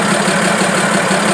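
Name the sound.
Fiat 190 tractor engine idling after starting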